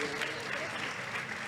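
Conference audience applauding, a brief, steady burst of clapping heard from the crowd at a moderate distance, fairly quiet and even throughout.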